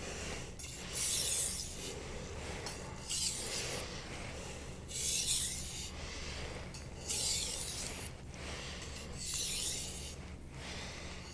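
A knife blade is sharpened on a 1000 grit Naniwa Professional or Imanishi whetstone. The rasping strokes are soft and regular, each lasting about a second, repeated in a steady back-and-forth rhythm, fairly quiet with no talking.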